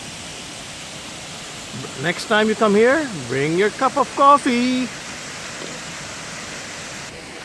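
A waterfall on Jeju Island gives a steady, broadband rushing wash that runs through the whole scene, with people talking over it from a viewing deck partway through.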